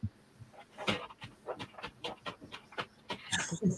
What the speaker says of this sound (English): my dog is excited because he came in here